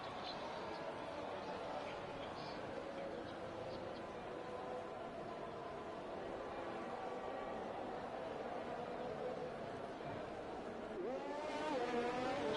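Race cars in a sim racing game at Abu Dhabi, a steady layered engine drone with rising and falling revs as cars pass and accelerate, under continuous commentary.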